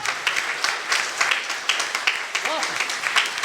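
An audience claps at a Hindi poetry recital, a kavi sammelan, making a dense, continuous round of applause with voices audible underneath.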